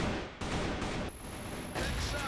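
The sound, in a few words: pistol gunfire in the video game CrossFire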